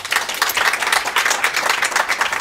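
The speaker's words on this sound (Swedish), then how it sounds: "En applåd, en applåd." An audience at a conference applauds a guest speaker with dense, steady clapping that lasts the whole clip, full and close with no pause.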